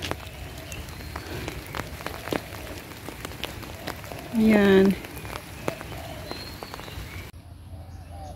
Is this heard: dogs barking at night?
no